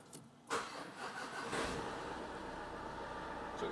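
A Volkswagen Crafter van with a weak battery cranks briefly and its engine catches, settling into a steady, close idle that runs on alone.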